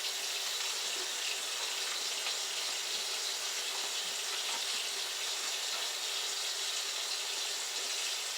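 Tap water runs steadily into a sink as chicken thighs are rinsed, a constant broadband hiss with no pauses and no voices.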